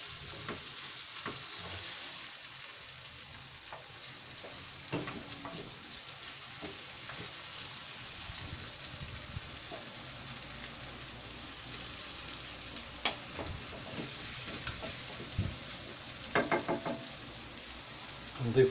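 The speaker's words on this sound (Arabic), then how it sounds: "البقيلة ديالنا هي قربت تقلى مع الفلفلة" Bell peppers fry with onions in a pan, giving a quiet steady sizzle with occasional scrapes and knocks of a utensil, and a voice speaks faintly at times.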